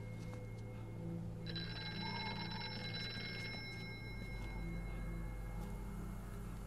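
Telephone ringing in the horror game Here They Lie, a payphone sounding in repeated bell-like bursts that grow slightly nearer, set against a steady low ambient drone with no talk.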